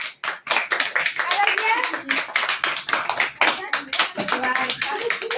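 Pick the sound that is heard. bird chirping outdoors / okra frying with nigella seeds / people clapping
people clapping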